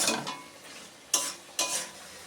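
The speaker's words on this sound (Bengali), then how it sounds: "এবার ভালো করে এর সাথে মিশিয়ে আমি নামিয়ে নেব।" Mustard paste being stirred into a Malabar spinach curry in a pan, with a soft background sizzle broken by two sharp scraping strokes of the spoon against the pan, close and alone.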